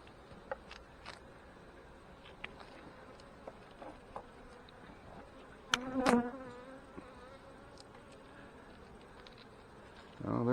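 Honey bees buzz around an open hive during a fall inspection, a constant close drone with scattered clicks and taps and a louder swell of buzzing midway and again at the end.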